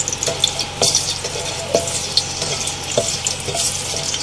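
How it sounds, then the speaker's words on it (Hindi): Bay leaf and black cardamom frying in hot oil in a pan for a chicken milk karahi, a soft steady sizzle broken by small pops and stirring clicks, close and with no talk. "और इसको मैं हल्का सा यहाँ फ्राई करूंगी।"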